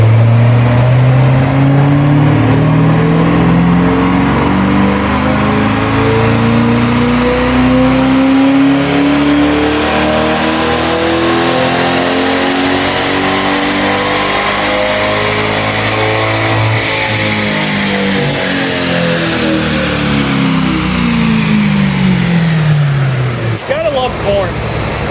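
A C8 Corvette E-Ray with a flex fuel engine revs up steadily on a dynamometer pull, its loud engine note climbing in pitch for about seventeen seconds, then falling as it winds down before cutting off near the end.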